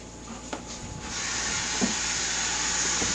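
Running water from a kitchen sink tap rushes in a steady hiss while hands are washed, with a few soft knocks and clatters before the flow grows fuller.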